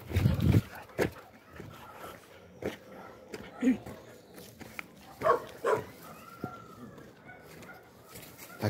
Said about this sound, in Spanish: Ese perro casi me ataca